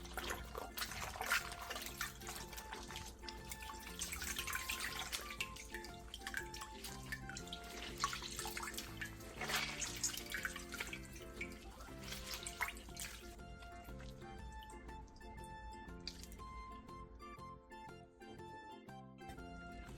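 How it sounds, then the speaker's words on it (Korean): Running cold water rinses blanched napa cabbage in a kitchen sink, producing a steady splashing flow with drips that softens and thins toward the end. "데친 배추는 바로 찬물에 헹군 뒤 물기를 최대한 꼭 짜주세요."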